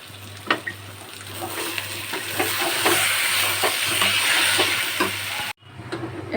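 Oil heats in a pan while mutton curry is made, producing a loud, continuous close-up sizzle with scraping stirs, then a sudden brief drop before the frying returns.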